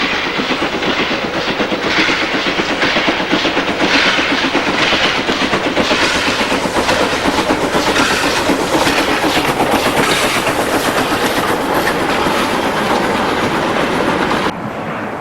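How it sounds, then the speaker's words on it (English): A British N7 steam locomotive hauls a train of wagons at Beck Hull, producing a loud, continuous rumble with steady rhythmic clatter of rolling wagons close by, sustained throughout with no voices. "The N7 gets to grips with wagons at Beck Hull in April 2007."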